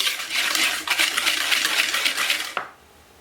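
A whisk rattles quickly and continuously against a bowl as ghriba cookie ingredients are stirred, a busy metallic clatter up close that stops abruptly with a final knock.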